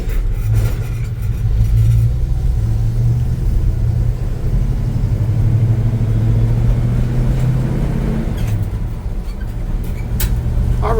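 Engine of a Chevy C10 pickup with a three-on-the-tree column shifter, a steady low droning rumble while driving, loud and continuous with small swells in throttle and no talking.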